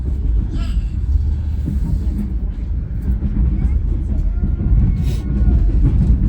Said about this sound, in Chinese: 这火车开的可真够慢的